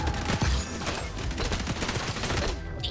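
Rapid bursts of gunfire in the online shooter XDefiant crackle loud and close, with overlapping shots and automatic fire filling the whole moment before a brief dip at the end.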